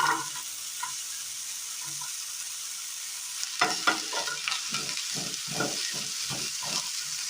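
Brinjal and chopped onion dropped into hot oil in a pan, a soft sizzle rising into bursts of stirring and frying crackle partway through, close and fairly quiet.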